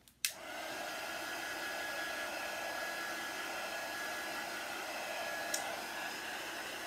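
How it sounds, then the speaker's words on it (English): A blow dryer runs as a steady loud whoosh, close up, drying a painted wooden beehive craft piece, with a click as it switches on and a brief bump midway. "let's dry this up a little bit."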